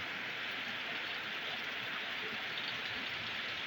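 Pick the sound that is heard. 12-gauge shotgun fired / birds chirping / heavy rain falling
heavy rain falling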